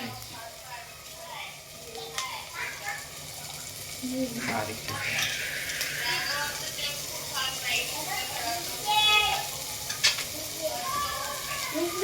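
Onion and garlic fry in a home kitchen pan for pasta, giving a steady close sizzle with stirring scrapes and clinks, while a voice talks over it now and then.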